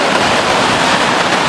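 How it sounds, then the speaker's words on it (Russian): Loud, continuous roaring wash of Black Sea waves breaking in shallow water at a rocky bay on Cape Tarkhankut in Crimea, a dense close surge with no pauses or voices. "Вот какие волны."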